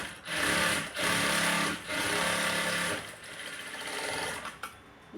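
A sewing machine stitches a blouse in loud, close whirring bursts, with a few brief pauses between runs and no talk.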